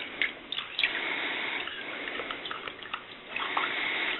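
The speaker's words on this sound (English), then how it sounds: "Rinse it off pretty good." Water splashes and sloshes as an etched guitar humbucker cover is rinsed in a tub of cold soapy water, with small plinks and swishes throughout, near and moderately loud.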